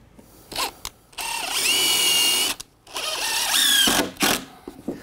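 Power drill driving screws into deck lumber: a couple of short bursts, then two long high whining runs of the motor with brief pauses between, close and loud, no talking.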